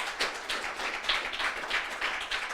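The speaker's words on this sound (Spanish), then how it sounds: "Dale un aplauso fuerte al Rey de Reyes." A church congregation applauding loudly, a steady wash of many hands clapping in a room, with no voices on top.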